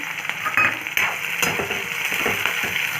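Onion and green chili go into a pan with cooking garlic and fry with a close, steady sizzle, with a few utensil clinks and stirring scrapes as they cook.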